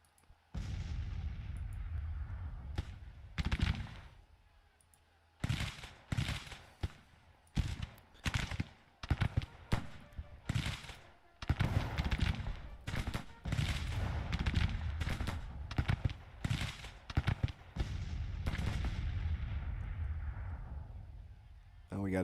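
Cannon and musket volleys boom and crackle in a Gettysburg battle in the strategy game Grand Tactician, repeated sharp blasts in irregular bursts, with someone talking over parts of the gunfire.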